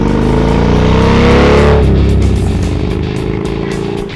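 A loud Indian Chief cruiser motorcycle engine, 111 cubic inches, revs up with rising pitch as it accelerates, then the tone drops as it settles into a deep, steady rumble.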